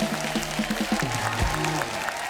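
Studio audience on a Hindi comedy show claps and cheers under loud stage music, the applause a bright continuous patter through the short burst.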